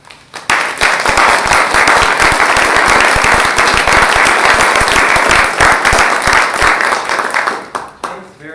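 An audience breaks into sustained applause to welcome lecturer Adam Nelson at a university seminar, dense steady clapping that rises quickly, holds for about seven seconds, then tapers off.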